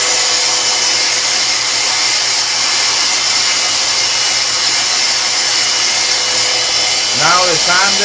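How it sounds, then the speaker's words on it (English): An electric sander smooths a steel harpoon tip with a steady, loud whirring grind that runs without a break, and a voice briefly speaks over it near the end. "Now the sander to make it a little more smooth."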